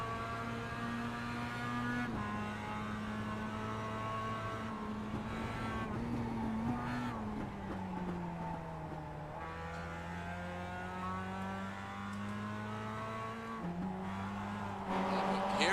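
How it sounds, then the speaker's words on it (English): Mazda MX-5 race cars at speed around Barber Motorsports Park, engines droning and shifting pitch as they lift off the throttle and chase each other through a corner, loud and continuous beneath a race commentator's voice. "Jordan Johnson getting off the throttle, following him through."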